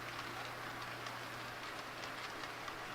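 An O scale two-rail model passenger train runs along a mainline on a home layout, giving a steady, even rolling rumble with a faint hum underneath and no pauses.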